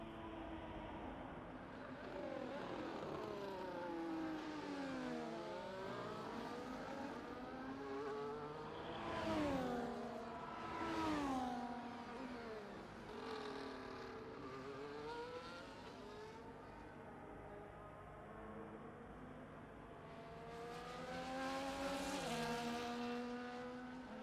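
Several F1 cars circle the Qatar circuit in a racing video game, engines whining and sweeping up and down in pitch as they pass, overlapping continuously at a moderate level.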